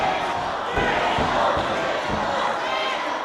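A wrestling crowd at a Reality of Wrestling TV match roars in a steady, loud wash of cheering and shouting with scattered thumps, sustained throughout without a break.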